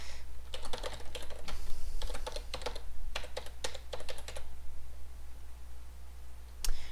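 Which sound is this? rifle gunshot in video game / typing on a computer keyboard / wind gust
typing on a computer keyboard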